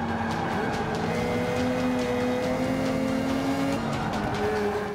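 In Forza on Xbox One, a race car engine drones steadily with shifting pitch while tires squeal and skid across a busy, continuous track mix, with no talking.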